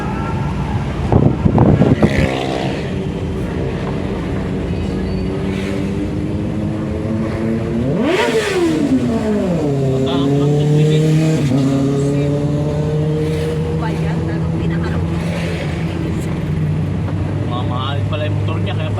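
A motorcycle engine revs hard and roars past nearby, its pitch rising and then falling. The loud, buzzing drone carries through most of the stretch, with a clatter near the start.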